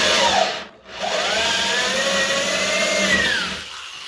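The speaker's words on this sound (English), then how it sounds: "just drill your hole down in there nice and easy" A power drill whirs steadily as it bores into a wooden cornhole board, briefly pausing and restarting, with a grinding, rising motor whine close by.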